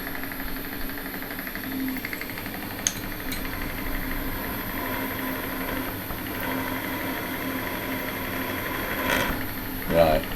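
A drill bores holes in a cast iron part for a hit-and-miss engine, making a continuous, fairly quiet grinding hum with a faint mechanical whine. Brief louder scrapes come near the end as the bit breaks through.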